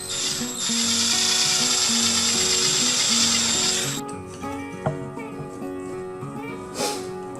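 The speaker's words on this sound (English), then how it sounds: "Now we have to drill a hole right there" A steady, loud mechanical whir of a drill boring a hole in wood for several seconds, then stopping, followed by quieter clicks and handling noises.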